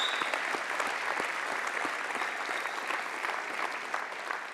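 A church congregation applauds its volunteers, a steady wash of many hands clapping in a large room, moderately distant and even, with no talk over it.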